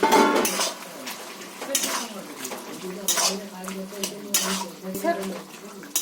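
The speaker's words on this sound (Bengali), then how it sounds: "পুঁই শাকটা আমি চাপাটা খুলে নিলাম।" A metal lid lifted off a pot of cooking Malabar spinach, with clinks and scrapes of cookware and utensils among soft kitchen sounds and a quiet voice nearby.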